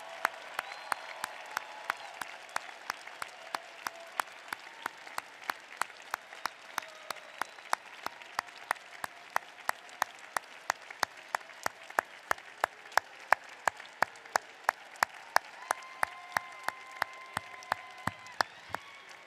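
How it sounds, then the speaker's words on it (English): Sustained applause from a commencement audience honoring graduates' families, dense steady clapping filling the hall, with occasional sharper nearby claps standing out for the whole stretch. "graduates, give them a big round of applause"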